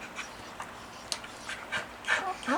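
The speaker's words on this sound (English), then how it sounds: "I'm making faces at the dog, and she's kind of squeaking at me." A pit bull and Labrador mix dog makes soft, short squeaks and whimpers between panting breaths, several faint nasal bursts close by in a quiet room.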